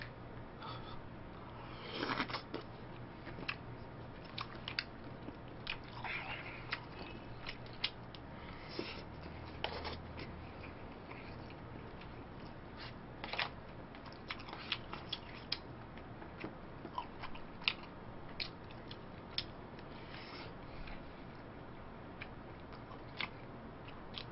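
Noisy chewing and smacking while eating omurice and kimchi stew, with frequent close, sharp clicks and wet bites repeating irregularly over a quiet background, with no talking.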